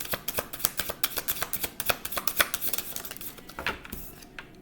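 Tarot cards are shuffled in quick riffling bursts, a rapid run of crisp papery snaps and flutters that thins out toward the end, close and alone with no talking.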